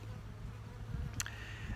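Honeybees buzz steadily around opened hives during a brood nest inspection, a low continuous hum with a brief sharper insect whine passing close partway through.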